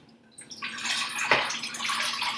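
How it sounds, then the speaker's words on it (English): Tap water pours into a cooking pot at close range, a steady rushing hiss that starts after a brief quiet and keeps running. "I'm going to take my pot. I'm going to fill it up now."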